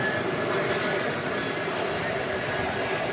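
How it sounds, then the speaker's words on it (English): An American Airlines Airbus A321 passes at night at Dallas Fort Worth Airport, giving a steady, broad engine roar that holds level throughout, fairly loud and unbroken. "That was American 2769, an Airbus A321. Momentarily going through our shot."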